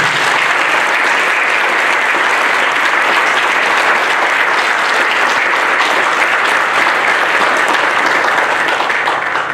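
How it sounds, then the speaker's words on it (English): A crowd at a meet-the-candidates event applauds the candidate panel, loud, dense clapping that holds steady for the whole stretch without any voices. "Let's give a round of applause for our"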